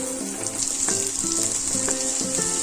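Cut potatoes and pumpkin fry in oil in a pan at home, a steady close sizzle with intermittent crackling pops and stirring scrapes, no voice.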